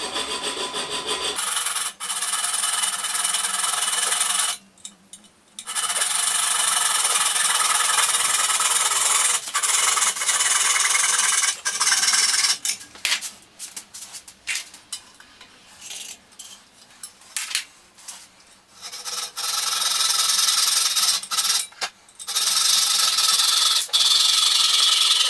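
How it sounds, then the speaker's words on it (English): A coping saw cuts through a template with rapid rasping back-and-forth strokes in bursts, separated by pauses and some handling clatter, close and loud with no talking. "take my trusty old coping saw and cut this guy."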